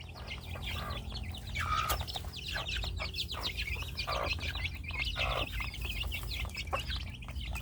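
Chickens cluck and crow around a farmyard while being fed, with repeated close clucks and squawks rising over a steady low background hum, no one speaking.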